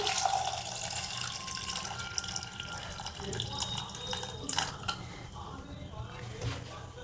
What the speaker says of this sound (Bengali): এরপর আমি জল দিচ্ছি